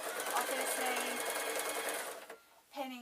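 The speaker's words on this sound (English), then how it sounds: "So I'm just putting the sewing machine to sew, and I'm folding over as I go." A sewing machine stitches fabric in a fast, even rattle under a person talking, stopping briefly near the end before a short burst resumes.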